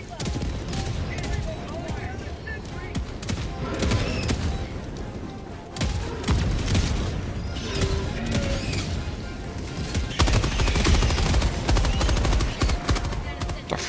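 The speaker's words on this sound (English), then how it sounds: "There's explosions everywhere because of this." Rapid bursts of automatic gunfire and booming mortar explosions keep coming in Helldivers 2, loud and chaotic, with a few sharp cracks standing out from the continuous barrage.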